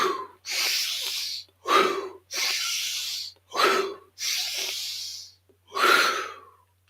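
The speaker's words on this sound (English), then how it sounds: "5 deep breaths." A sequence of deep breaths in a guided morning activation routine: long hissing inhales alternate with shorter, sharper exhales, about three full cycles, close and fairly loud with no talking.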